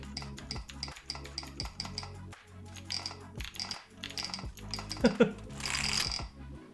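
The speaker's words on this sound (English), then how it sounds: "Let's go ahead and just start testing all the keys, making sure they still work." Keys on a computer keyboard that has been washed in a dishwasher are pressed in a quick, uneven series of close clicks and clacks, ending with a brief rattle and a hiss-like burst.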